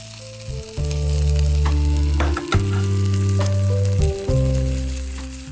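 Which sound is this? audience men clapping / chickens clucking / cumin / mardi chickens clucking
cumin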